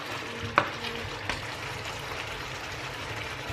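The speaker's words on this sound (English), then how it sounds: "And you just let your cornstarch cook for a few minutes." Curry fish sauce thickened with cornstarch bubbles and sizzles gently in a pan, a soft steady cooking hiss marked by two brief utensil knocks early on.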